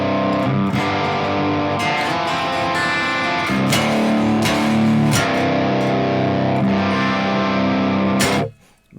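An electric guitar runs through the Line6 Helix Ventoux amp model set for a hard rock and metal tone, playing loud distorted chords and riffs with sustained notes, then cutting off at the end, with no talking.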